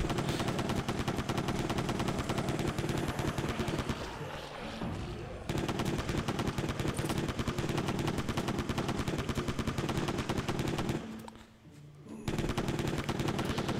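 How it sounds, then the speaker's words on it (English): Continuous rapid gunfire from a Switch video game while running and shooting, dense and loud almost throughout, with two brief dips in intensity. "Just keep running and shooting."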